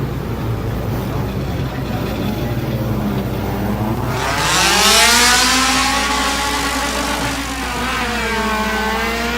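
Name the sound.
mini stock race cars racing on track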